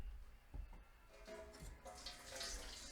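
Star San sanitizer being poured into a new, factory-fresh carboy, a soft splashing trickle of liquid that comes in short bursts and then runs more steadily, quiet and close.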